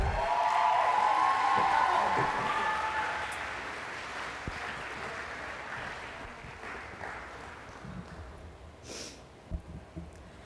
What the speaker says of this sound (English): So can we give her a big round of applause, please?